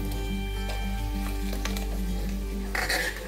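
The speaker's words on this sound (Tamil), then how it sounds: "சலசலன்னு சத்தம் கேட்கும்" Herbs fry in hot hair oil with a steady, close crackling sizzle throughout, over a low constant hum, a louder burst of bubbling near the end, no voices.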